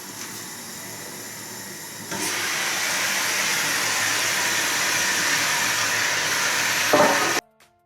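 Food sizzles steadily in a pan while being stirred, a close, even hiss that grows louder partway through, then cuts off with a clatter at the end.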